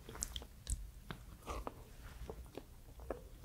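Someone eating instant mashed potato flakes rehydrated with water makes soft, intermittent mouth and chewing sounds, close and fairly quiet, with a few faint smacks spread across a few seconds and no talking.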